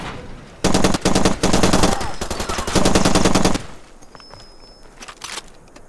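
Rapid bursts of automatic gunfire in the video game Far Cry 2 crackle in several volleys, loud and close, followed by quieter scattered shots and a faint electronic tone.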